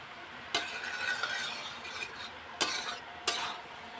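Kabuli chickpea curry being stir-fried in a pan, with a steady soft sizzle broken by three sharp spatula scrapes against the metal. No one speaks.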